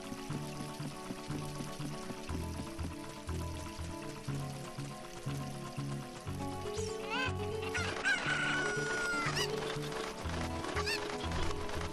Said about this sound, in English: Come here, you damn chicken.